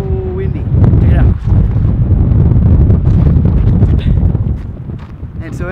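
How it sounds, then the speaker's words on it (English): Strong wind at Geyser Hot Springs in Colorado buffets and roars across the microphone in a steady low rumble that continues throughout. "it is so windy"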